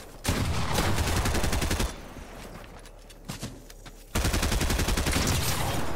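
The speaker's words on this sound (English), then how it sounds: "The amount of shots fired and the amount of shots hitting is crazy." Two long bursts of rapid, loud automatic gunfire from a Nintendo Switch shooter game in a 1v1 match, separated by a quieter stretch with scattered single shots.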